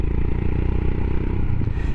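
Royal Enfield Himalayan motorcycle exhaust idling close by, a loud steady low thumping burble with fast regular pulses and slight rise toward the end.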